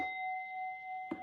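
A single bell rings out with a pure sustained tone that hangs through the quiet, ending with a brief soft knock.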